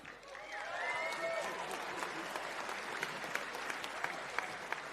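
Arena crowd at an East vs West MMA event clapping and cheering for a fighter after the bout, a dense steady roar of applause with sharp claps and distant shouts, heard from afar and fairly faint.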